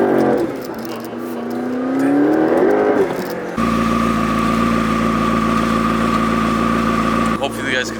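A McLaren MP4 sports car fitted with a Vorsteiner rear bumper, its engine rising in a rev and then holding a steady, loud idle with a strong tonal drone, close by, with a voice heard briefly near the start.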